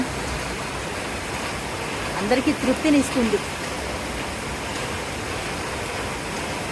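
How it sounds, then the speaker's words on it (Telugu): Heavy rain falls in Hyderabad as a steady broadband wash of noise, with a brief burst of speech partway through. "ఏదేమైనా చాలా కాలం తర్వాత ఇంత పెద్ద భారీ వర్షం పడటం"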